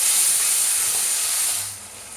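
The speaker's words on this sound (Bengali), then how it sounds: "দিয়ে ভালো করে মশলা কষে নিতে হবে" Spice masala for a crab curry fries in a pan with a loud, steady bright sizzle that eases off slightly toward the end of the short stretch.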